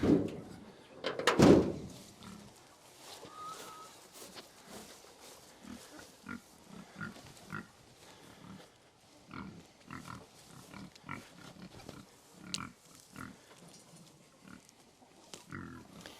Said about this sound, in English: The joys of background pig noise.